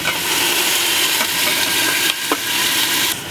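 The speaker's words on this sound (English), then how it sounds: "Now I'm going to put in my oxtail" Oxtail going into a hot pot for a Jamaican oxtail dish, producing a loud, dense, continuous sizzle close up with a few brief clinks.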